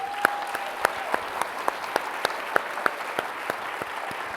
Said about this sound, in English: I appreciate the clapping